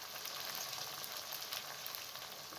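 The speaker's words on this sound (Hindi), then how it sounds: "4 से 5 मिनट तक गोश्त को भूनें, यहाँ तक कि गोश्त का कलर पिंक से वाइट हो जाए।" Meat sizzles and fries in a pan with onion, ginger and garlic, a steady, fairly quiet crackling hiss with no talk.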